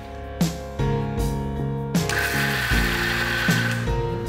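A kitchen mixer grinder churns soaked dal into batter for medu vada, its motor whirring steadily with rattling, clattering jar noise and several abrupt shifts in pitch, close and loud.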